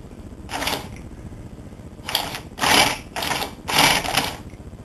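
Four bursts of rapid mechanical ticking and whirring from a small trilobe annular piston engine turned by blown air, the last three close together, with quiet pauses between them.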